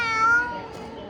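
A cat gives a single clear meow up close, a drawn-out falling tone with a faint rustle after it.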